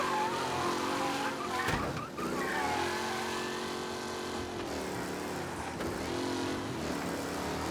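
A 1930s car in Mafia: Definitive Edition skids and squeals its tires while the engine drones steadily, the screech loud and sustained with a few sharp bumps, and almost no talk.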